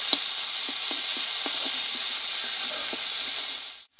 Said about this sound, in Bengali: মশলাটা আমি একটু ভেজে নেব একটু